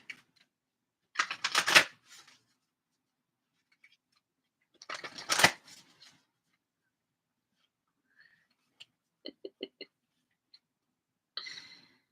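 A Moonology oracle card deck being shuffled by hand, with two bursts of riffling cards a few seconds apart and then some light taps and clicks.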